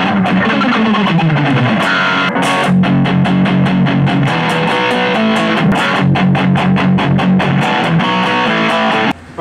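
An electric guitar played through its neck humbucker with distortion strums rhythmic chords, loud and close, with sharp repeated chops and sustained ringing notes until an abrupt stop.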